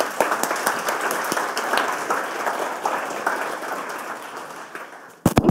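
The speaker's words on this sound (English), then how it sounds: "give us a big round of applause for Thryn" Sustained audience applause at a Screenshake 2017 conference talk, a dense steady clapping from a crowd lasting several seconds before breaking off into a few louder close claps at the end.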